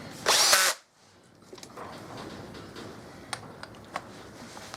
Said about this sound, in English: Right, I found my drill driver